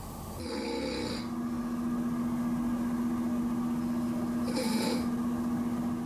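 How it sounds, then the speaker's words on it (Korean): A woman snores in deep sleep, a steady low drone with raspy breath noise, with fainter hissing swells near the start and end, recorded close in a quiet bedroom with no talking. "그런데 이제 코를 골기 시작했어요."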